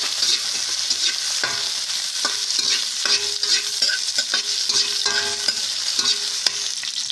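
Pieces of liver sizzle steadily in a hot pan, with a continuous frying hiss and periodic scraping stirs from a utensil throughout.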